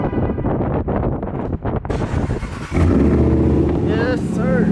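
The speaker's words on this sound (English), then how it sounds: "gotta do that cold start real quick" A Harley motorcycle in Norfolk fires up from a cold start partway through, settling into a loud, steady rumbling idle close by after a stretch of wind-buffeted road noise and talk.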